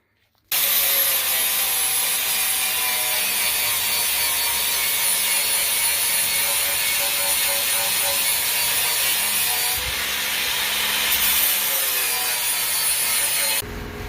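A grinder works steadily on a worn metal surface of a logging trailer, cleaning it back to shiny metal; the abrasive rasping runs continuously at close range for most of the clip, with no talk.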